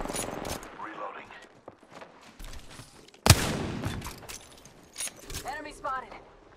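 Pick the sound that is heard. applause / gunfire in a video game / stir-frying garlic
gunfire in a video game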